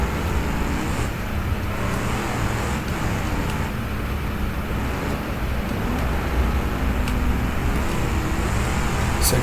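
A pickup truck engine in a racing video game drones and strains as it labors to gain speed on a proving-ground circuit, a loud, continuous roar with no voices.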